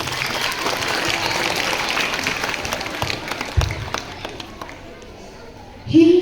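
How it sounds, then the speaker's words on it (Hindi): An audience at a school Hindi Day program claps in a lively, dense burst that thins out after a few seconds, with voices speaking toward the end. "तालियां"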